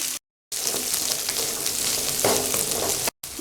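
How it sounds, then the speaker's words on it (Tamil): Onion, garlic and curry leaves saute in hot oil for an aubergine curry with a dense, close crackling sizzle, broken by brief silent gaps near the start and the end, and no voice is heard. "கருவேப்பிலை, நாம் கட் பண்ணி வச்சுருந்த வெங்காயம், பூண்டு எல்லாம் சேர்த்து வதக்கணும்."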